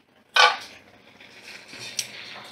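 A lid comes off a cooking pot with one sharp metallic clank, followed by softer clinks of metal cookware close by. The sounds come alone, with no talking.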